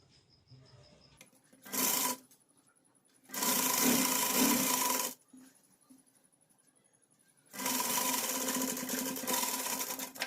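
A sewing machine stitches a button placket on a girl's Pathani suit in three separate bursts of steady, fast whirring clatter: one short and two longer runs, with quiet pauses between them and no talk.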